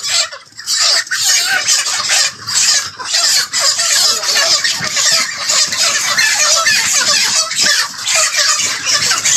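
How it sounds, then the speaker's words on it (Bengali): Broiler chickens on a farm squawk, cluck and squeal in a loud, dense chorus while being caught by hand, with wing flaps and scuffling and brief drops in the din. "আমাদের খামারি ভাইয়েরা মুরগিগুলা ধরে নিতেছে মাপার জন্য"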